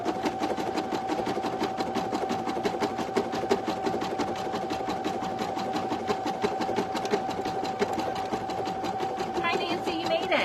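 An embroidery sewing machine stitches steadily, its rapid, even needle rhythm running throughout at moderate volume, with a faint steady hum beneath.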